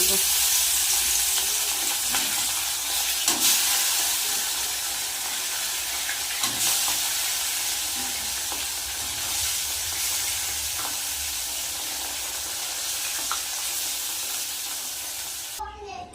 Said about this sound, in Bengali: তেল গরম হয়ে গেছে এবার আমি একে একে মাছগুলো ভেজে